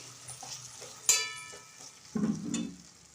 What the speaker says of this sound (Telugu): హాఫ్ ఆనియన్ చూడండి చిన్న చిన్నగా స్లైస్ చేసుకున్నాను అదంతా లైట్గా రోస్ట్ అయిపోవాలి